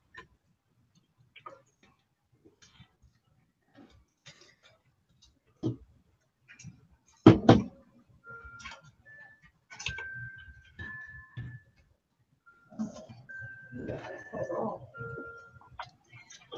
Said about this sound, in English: I'm gonna have to get rid of that clock that chimes.